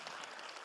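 Applause from an audience at a regional women-in-data summit, a dense, steady wash of clapping that fills the whole short moment with no voices over it.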